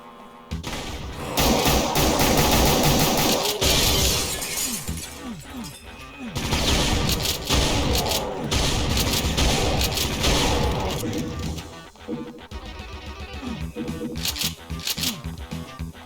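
Rapid pistol shots and chaotic combat noise from the video game Brutal Doom fill the mix, loud bursts of gunfire layered with impacts and game sounds.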